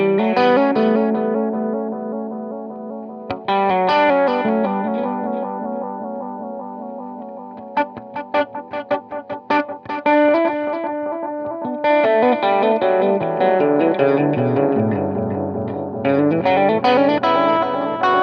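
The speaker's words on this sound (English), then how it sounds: "the delay on this unit really shines" Electric guitar chords and picked notes drenched in echoing delay repeats from a Mooer Red Truck effects unit, with chorus-like shimmer and some distortion, played alone at steady loudness.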